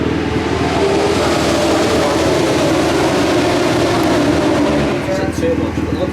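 A classic racing motorcycle engine at Castle Combe howls hard and close as the bike accelerates out of a bumpy corner past the apex, a steady loud roar throughout that eases slightly near the end.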